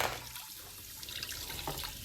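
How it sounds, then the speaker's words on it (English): Tap water running over sea moss being rinsed in a kitchen, a steady close splashing flow with small drips and shifts as the moss is handled, no voices. "we're going to start out by rinsing the Seamoss off with a little tap water"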